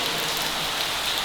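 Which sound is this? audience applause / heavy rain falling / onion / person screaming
heavy rain falling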